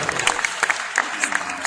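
Audience at a Seattle Sounders business meeting clapping, dense steady applause from a roomful of people, moderately loud and continuous throughout.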